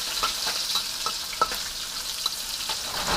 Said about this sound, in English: the oil just wasn't hot enough. Now it's hot enough. You can fry it up again.